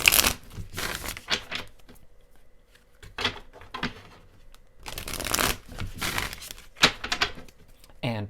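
Repeated bursts of tarot cards being shuffled, each a crisp riffling flutter lasting about a second, separated by short pauses, close and moderately loud.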